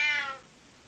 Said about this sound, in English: And the cat, obviously, what does the cat say? It meows.